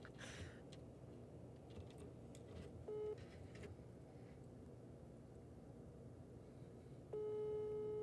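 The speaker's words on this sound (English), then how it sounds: "Foreign ringtone." An outgoing WhatsApp phone call rings out as two short electronic tone bursts a few seconds apart, faint over a quiet background hiss.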